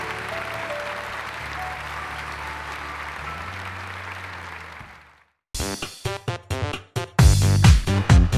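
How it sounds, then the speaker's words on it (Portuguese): A church congregation bursts into applause after prayer, a dense wash of clapping for about five seconds before it cuts to loud, rhythmic musical hits and a closing jingle. "E aplauda ao Senhor pela graça que Ele nos concede."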